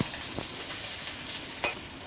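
Fish frying in a pan at home, a quiet steady sizzle with a few soft clicks and one sharper tap of a utensil, close but low in level.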